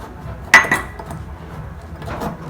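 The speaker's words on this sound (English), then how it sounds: "Now let's give it a good mix." A metal spoon clinks against a mug while stirring butter and powdered sugar together, one sharp tap followed by softer scraping knocks, close by.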